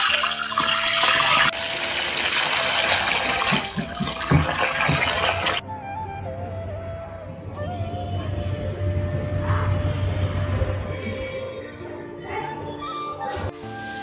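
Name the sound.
chicken deep frying in hot oil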